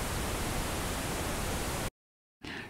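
A full, rushing pink noise from the noise generator of an ETI 4600 synthesizer, deeper than a hiss, plays steadily, cuts out abruptly to silence, then returns more faintly.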